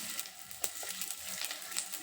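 Onion, garlic and ginger frying in a pan, giving a faint, steady sizzle with light crackles and a few soft stirring scrapes, close and quiet with no talk.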